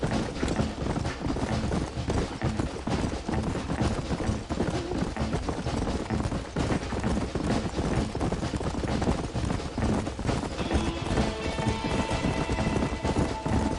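Horse hooves galloping in a PS5 video game, a fast, steady clip-clop rhythm running continuously under a dense, busy game soundscape, with a brief mechanical rattle layered in near the end.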